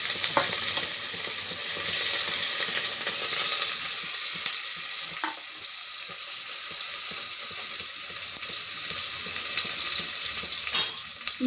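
Onions frying in a pan with cloves, cardamom, cinnamon, star anise and grated ginger for ghee rice: a steady, close, hissing sizzle with faint stirring and scraping throughout, no voices.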